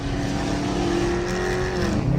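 Catless Dodge Charger RT driving on a highway, its engine and exhaust roaring loudly and continuously with a deep, raspy drone that swells slightly near the end, heard from inside the car.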